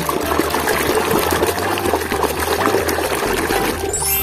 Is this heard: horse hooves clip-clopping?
no